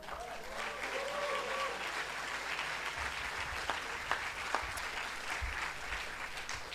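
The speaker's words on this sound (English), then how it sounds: "You're clapping too soon" An audience at a political party meeting breaks into sustained applause, a dense steady clapping from many hands lasting the whole stretch, with a few sharper individual claps standing out near the end.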